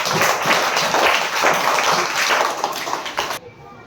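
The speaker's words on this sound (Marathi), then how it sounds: "जोरात टाळ्या विहानसाठी." Children clap loudly together for a classmate named Vihan in a second-grade class, a dense burst of applause that fades abruptly near the end.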